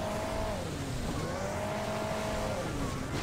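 A tractor engine in the mobile racing game Hill Climb Racing 2 drones continuously, its pitch sliding up and down as the vehicle accelerates and eases off.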